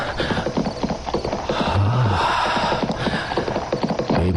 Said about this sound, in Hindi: घोड़े के टापों की आवाज